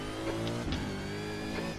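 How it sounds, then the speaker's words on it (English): V8 Supercar engine in the iRacing video game, racing at Oschersleben: a loud, steady engine drone with a dense harmonic buzz, held constant as the car approaches, with no voices. "Watch your mirrors, there's a car approaching."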